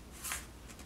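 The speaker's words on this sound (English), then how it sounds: "now we're going to fold opposite edge to opposite edge" Paper being folded edge to edge into an origami square base, a single brief crisp crinkle and swish of the sheet, close and fairly quiet, followed by faint soft rustles.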